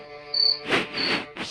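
Cricket chirping as a storybook sound effect, one short high trill followed by softer rustling, breathy bursts, close and fairly quiet with no voices.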